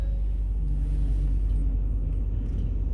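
A 2010 Ford F-150 XLT truck engine idles with a steady low rumble after starting up, running a little rough, heard from close by without any talk.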